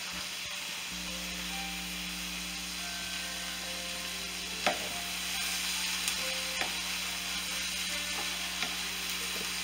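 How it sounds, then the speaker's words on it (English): Vegetables sauteing in a pan for a New Orleans-style lima bean dish, a steady soft sizzle with occasional light stirring clicks and scrapes, close and alone without talk. "let's get back to the sauteed vegetables right there"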